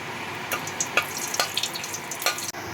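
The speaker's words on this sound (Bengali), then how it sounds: "প্রথমে তেলে আমি একটু গরম মশলা ফোড়ন দিলাম, এলাচ, লবঙ্গ আর তেজপাতা।" Cardamom, cloves and bay leaf crackle in hot oil for an egg masala curry, a close sizzle punctuated by several bright spattering pops and light stirring clicks.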